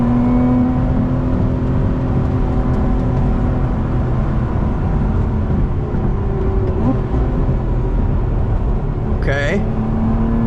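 A 2025 Lotus Emira V6 drives in third gear on a track with cold tires, its engine a steady loud drone with cabin whir throughout and a brief rising tone near the end.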